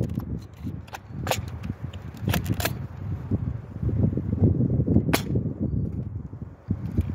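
A handful of sharp, snappy pops ring out in quick succession from a Nerf Shellstrike blaster firing Ultratech foam darts, then another later, each a brief crack over faint outdoor rustle and wind.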